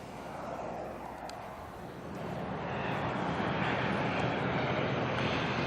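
An ATR turboprop arriving into Auckland Airport from New Plymouth, a steady broadband engine drone that builds gradually from a moderate distance with wind noise mixed in, no talk over it.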